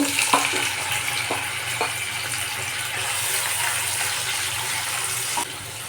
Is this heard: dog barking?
no